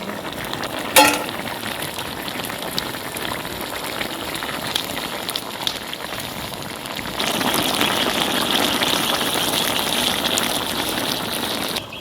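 Pangas fish dropped into a pan with young pumpkin, giving a steady broad sizzle with a sharp clatter near the start, and the frying grows louder and denser partway through.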